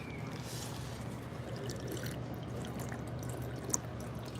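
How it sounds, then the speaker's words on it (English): A drinking fountain at a theme park runs with a soft, steady trickle of water under faint background bustle, and a single small clink near the end. "Checking fountain."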